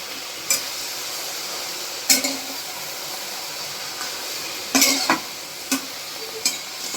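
Chopped cowpea leaves are stirred in hot oil in a pan over low heat, a soft background sizzle broken by several sharp scraping and clattering spatula strokes at irregular intervals.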